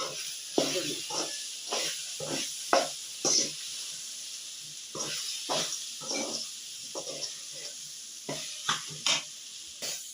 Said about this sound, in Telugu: ఇవన్నీ వేసుకొని బాగా కలబెట్టుకోవాలి